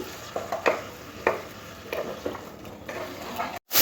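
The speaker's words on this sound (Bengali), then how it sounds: "হাফ চামচ জিরের গুঁড়ো হাফ চামচ ধনের গুঁড়ো আর একটু জল দিয়ে মশলাটাকে খুব ভালো করে কষে নিতে হবে" A spice paste of ground cumin and coriander with a splash of water is sautéed in a pan, with soft sizzling and intermittent spoon scrapes and knocks at an irregular pace, fairly quiet and close, ending abruptly.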